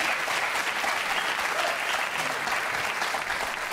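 An audience at a French talk show claps steadily throughout, a dense even wash of applause with no voices over it.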